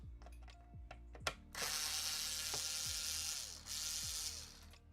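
Screws being removed from a Bush record player, heard as quiet, close ratcheting and clicking of a screwdriver over a continuous hiss, with no talking.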